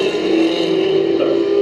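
Race cars in a heat race at Bakersfield Speedway, a loud sustained engine howl holding a steady pitch that rises slightly toward the end as the cars run close by.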